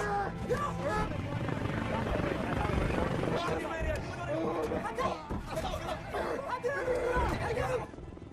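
Helicopter rotors thump over agitated voices and shouting, a busy, noisy scene with the aircraft close by.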